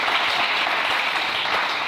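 A church congregation applauds the Lord with steady, dense clapping, close and loud, continuing evenly without a break.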